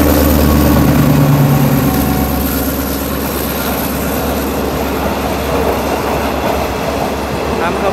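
Passenger train on Thailand's southern railway line, a loud, close rumble of wheels and engine with rhythmic rattling that rolls on steadily throughout.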